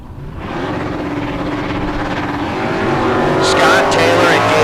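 Drag race cars launch at a bracket race start line, engines roaring up loudly from a low rumble into a sustained, rising blare, with an announcer talking over the noise.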